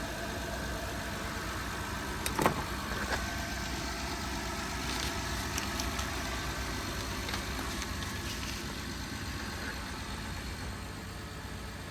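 A repaired 2012 Honda Odyssey engine idling steadily after a rocker arm oil pressure switch replacement, a continuous even hum with one brief clunk early on and no talk.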